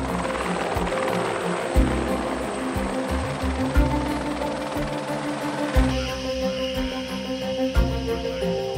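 A helicopter hovers close by while clearing snow from a high-voltage power line, its rotor and engine roar filling the whole stretch as a steady, loud drone with shifting pitch.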